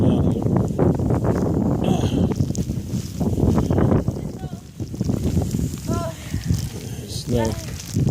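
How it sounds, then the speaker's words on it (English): Strong wind gusting through a blizzard, a loud, rough roar buffeting the microphone for the whole stretch, with someone talking over it. "That wind is really going here."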